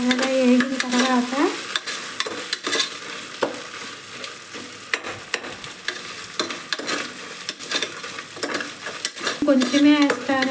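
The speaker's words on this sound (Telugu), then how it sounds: "ఇది కూడా బాగా ఎర్రగా కలగబెట్టుకున్నాక బాగా ఎర్రగా వేగాలి." Masala for chicken biryani frying and being stirred until browned, a loud close sizzle broken by frequent scraping strokes and utensil knocks against the pan, with brief voices at the start and end.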